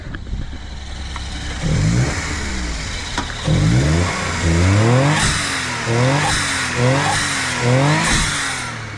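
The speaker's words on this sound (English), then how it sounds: "let me give it a couple revs so you guys can hear it" Small kei truck engine with an electronic throttle body revved a few times, close up and loud, the pitch sweeping up and dropping back in repeated bursts over a steady idle.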